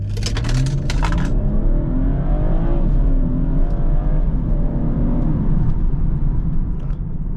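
A 400 HP BMW 440i launching at full throttle with launch control, the engine roaring loud and close as it climbs steadily through the revs, with a brief clatter at the start.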